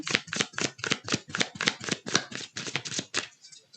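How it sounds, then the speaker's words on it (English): A deck of slick oracle cards is shuffled, about a dozen rapid, evenly spaced riffling bursts close to the mic, tapering off at the end. "the cards are super easy to shuffle"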